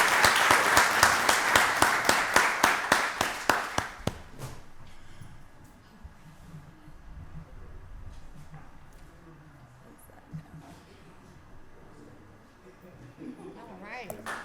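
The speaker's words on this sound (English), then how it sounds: "Let's give our coaches another round of applause." An audience claps for the coaches at a county board of commissioners voting session, a loud, steady round of applause lasting a few seconds before it fades into quiet room noise.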